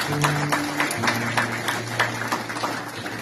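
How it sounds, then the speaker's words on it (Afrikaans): A church congregation gives steady, sustained applause at an Afrikaans communion service, dense hand claps filling the room with a low hum underneath. "Kom ons gee haar met klap."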